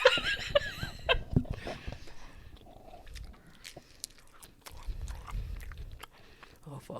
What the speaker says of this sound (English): I'm like putting the mic away when I chew because I hate that sound